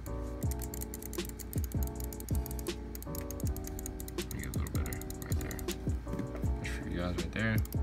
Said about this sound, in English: Right there, clicking on this one, you can tell the difference